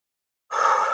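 A single breath drawn in by a person, a soft airy rush that starts after half a second of silence and holds steady to the end, close and alone.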